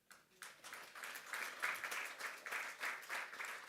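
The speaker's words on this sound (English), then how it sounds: "A round of applause" Quiet, distant applause from a forum audience, dense clapping building after a brief pause and holding at a soft, even level.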